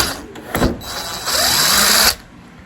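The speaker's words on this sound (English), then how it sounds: "This is where the old handy dandy DeWalt 20 volt comes in." A DeWalt 20-volt cordless drill drives screws while a pocket door latch is installed. There is a brief whirr, then a loud, close, sustained motor buzz that cuts off abruptly after about a second and a half.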